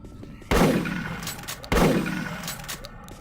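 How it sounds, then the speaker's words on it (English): Two loud shotgun blasts about a second apart, each with a sharp crack and a decaying boom, fired in the Doom 3 Phobos mod. "This shotgun is a lot better than the default Doom 3 shotgun."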